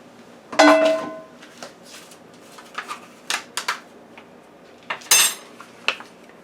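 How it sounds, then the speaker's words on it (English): Ham goes into a metal pan for an air fryer, with sharp clanks and light cutlery-like clinks in scattered bursts, some louder and close, with quiet gaps between and no voices. "And now let's put the ham in another pan."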